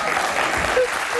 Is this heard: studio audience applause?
yes